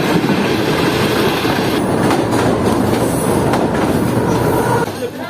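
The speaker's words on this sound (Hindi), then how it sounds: "लाहौर जाने के लिए 41 कराकरम एक्सप्रेस प्लेटफॉर्म नंबर 1 पर आ रही है।" Karakoram Express arriving at a station platform on the Karachi–Lahore line: a loud, steady rumble of rolling railcars with clickety-clack of wheels and faint squealing throughout, easing slightly at the end.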